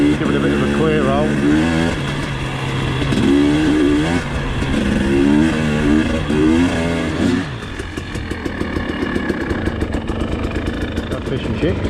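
A KTM enduro motorcycle on an Isle of Man green-lane trail, its engine held at a steady mid-range drone with rising and falling revs, then shifting to a rougher, pulsing idle-like patter near the end.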